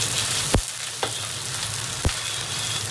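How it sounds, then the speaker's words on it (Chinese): Garlic, ginger slices and dried chilies sizzle steadily in hot mixed oil with lard, a close, constant frying hiss broken by a few sharp clinks of a utensil against the wok. "油烧热后先下点蒜子。 姜片儿，稍微来几颗干辣椒，爆香"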